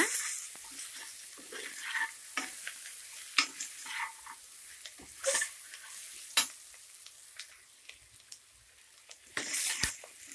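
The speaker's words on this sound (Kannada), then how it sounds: "ಮಿಕ್ಸ್ ಮಾಡಿಕೊಂಡು ಮೀಡಿಯಂ ಫ್ಲೇಮಲ್ಲೇ 3 ನಿಮಿಷ ಚೆನ್ನಾಗಿ ಫ್ರೈ ಮಾಡ್ಕೊಬೇಕು ಎಣ್ಣೆಯಲ್ಲೇ ಬದನೆಕಾಯಿನ" Brinjal (eggplant) pieces fry in oil over a medium flame, giving a steady soft sizzle broken by repeated scraping stirs and occasional clatters from the pan, with no talking.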